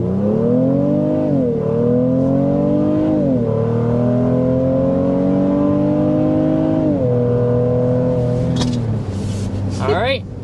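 A 2024 Honda Pilot Elite's 3.8-liter V6 accelerates hard and close, rising in pitch through several upshifts with brief dips between gears, steady and loud throughout, ending in a short burst of wind and road noise.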